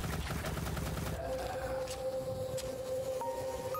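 An AK-12U in the game Dreams on PS4 fires a rapid burst of automatic shots for about a second, then a sustained whining tone with a few faint clicks.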